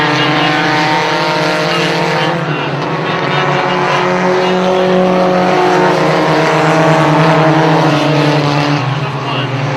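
Race cars at a feature race roaring loudly around a track turn, a continuous layered engine drone with shifting pitch, while an announcer talks over it.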